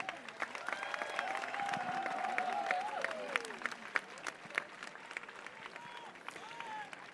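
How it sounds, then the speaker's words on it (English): Seated guests at a village sports festival gathering applaud those on the dais, a moderate spread of clapping from a large crowd, with voices and occasional cheering mixed in over it. "A big round of applause for all the guests who are there in the dais,"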